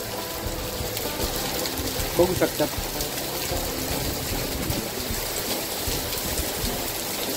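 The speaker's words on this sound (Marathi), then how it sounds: "आत्ताच खूपच जोरात पाऊस सुरू झाला आहे" Heavy monsoon rain pours in Lavasa as a loud, unbroken rushing wash, and a voice speaks briefly over it.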